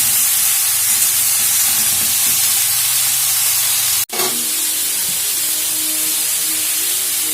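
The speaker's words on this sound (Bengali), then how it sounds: "পটল যত ভালো করে ভাজা হয় তত টেস্ট হয়" Loud, steady hiss of pointed gourd frying in hot oil fills the clip, with a brief dropout midway before the sizzle resumes.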